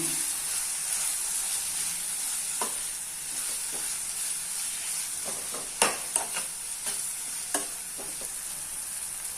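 Fenugreek pulusu spices stirred in a hot frying pan, a continuous bright sizzle with several scraping spoon strokes clustered in the second half, close and moderately loud.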